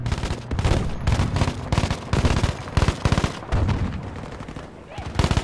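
Gunfire in Battlefield V, rapid bursts of loud, close shots in quick succession with short gaps, dense and percussive throughout.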